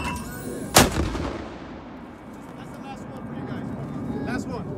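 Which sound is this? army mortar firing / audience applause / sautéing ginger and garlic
army mortar firing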